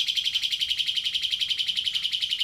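A caged Suren songbird chirps rapidly and continuously, high bright notes repeating in a quick even rhythm, close and fairly loud.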